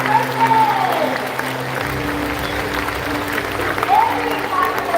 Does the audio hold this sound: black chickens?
no